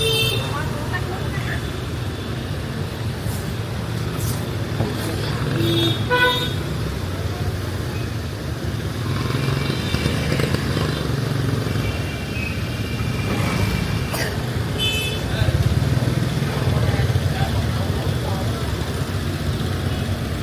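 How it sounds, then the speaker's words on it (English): Busy peak-hour street traffic in a Da Nang market area around 8 o'clock, with steady engine rumble, repeated car and motorbike horn toots scattered throughout, and a voice talking over the din. "Oh god, the traffic's bad."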